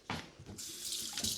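Kitchen tap running over a dish while Rocky Road is being made, a short close hiss of flowing water that splashes and shifts as the dish moves under the stream.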